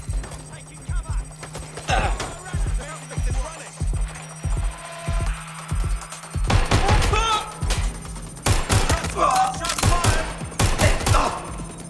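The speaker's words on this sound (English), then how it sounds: "Someone's shooting." Gunfire in the video game Watch Dogs Legion, bursts of rapid shots and thumps, loud and near, with game dialogue and radio-style voices in between.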